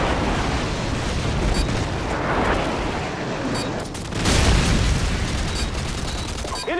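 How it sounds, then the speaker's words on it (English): Airstrike explosions on the Backlot map of Call of Duty 4 multiplayer land as a sustained volley of deep rumbling booms and crackling blasts, with a heavier burst partway through and faint game voices in the mix. "Friendly airstrike on the way."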